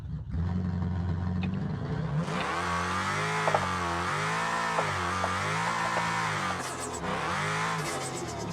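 A Nissan Patrol engine in BeamNG Drive, held in third gear, idles low, then roars up to a sustained loud rev that rises and dips repeatedly, with brief rattling near the end and no voices.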